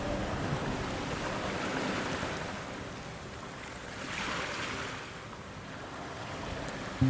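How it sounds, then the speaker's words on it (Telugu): Surf washing onto Candolim beach in Goa, a steady broadband wash with a soft swell in the middle, mixed with light wind noise and no voices. "క్యాండిలియం బీచ్ కాలంగట్ కన్నా కొంచెం పీస్ఫుల్గా ఉంటుంది."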